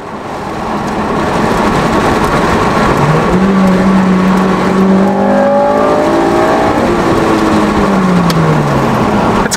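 An 8th-generation Honda Civic Si with VTEC builds revs from a fade-in and accelerates through several rising gear pulls with shift dips, a loud, close in-car engine roar throughout.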